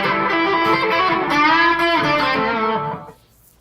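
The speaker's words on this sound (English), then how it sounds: "And then into a Hydra on a plate reverb." Electric guitar runs through a Halo slapback delay, a Hydra and a plate reverb, ringing out rich sustained chords with layered echoes for about three seconds before the tone abruptly cuts off into near silence.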